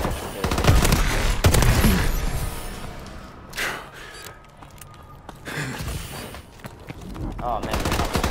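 Rapid automatic gunfire from a rifle in a video game, loud dense bursts for the first few seconds, then thinner, scattered shots and short volleys.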